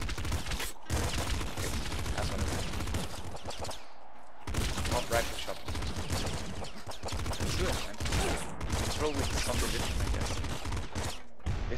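Shotgun fire in the video game Nuclear Throne, a dense, relentless barrage of rapid blasts and impacts that runs almost without pause, with a few brief breaks.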